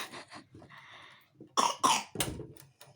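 A few sharp coughs in quick succession, close and fairly loud, following some quieter rustling sounds.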